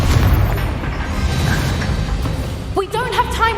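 A Confringo spell explosion from the Hogwarts Legacy video game bursts with a deep boom over busy game noise, followed near the end by a brief whooshing, warbling magical effect.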